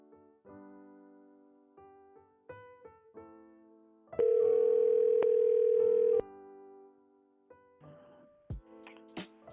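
A phone call being placed to reach a caller, with a steady ringing or dial tone that holds for about two seconds. Scattered short beeps and tones come before and after it, and no voices are heard.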